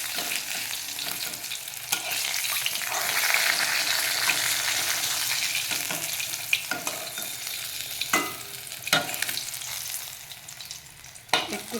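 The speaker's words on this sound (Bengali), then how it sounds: "তেল ফুটছে।" Rohu fish pieces fry in hot oil with a steady, dense sizzle and crackle, punctuated by a few sharp utensil knocks and clatters near the end, with no voices.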